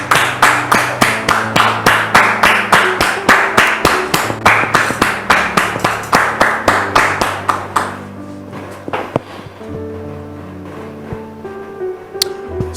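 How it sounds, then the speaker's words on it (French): Fast, sharp rhythmic clapping from an audience welcoming a guest onto a talk-show stage, loud and insistent at first, then thinning into scattered claps before fading out. "sous vos applaudissements"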